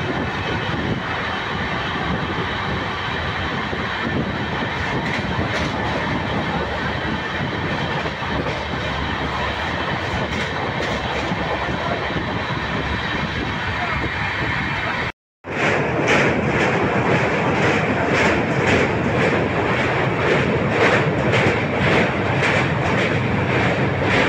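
Kanchanjunga Express on its first LHB coach run, rolling along in a steady loud rumble of wheels on track heard from inside, with a brief cut midway before the same running noise resumes.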